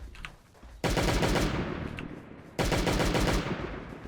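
Rapid automatic gunfire from a Last Day On Earth Survival game shoots down spitters in two loud, sustained bursts separated by a short lull, dense and close, with no voices.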